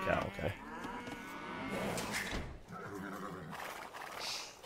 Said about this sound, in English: There's my other cow, okay.